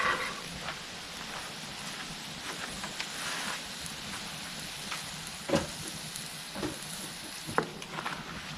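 Ground venison and beef fry in a cast iron pan at a campsite, a faint, soft sizzle with scattered crackles and a few sharper pops, quiet and steady.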